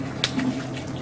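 Water running steadily from a tap, a soft, even hiss with a faint splash, heard briefly and fairly quietly.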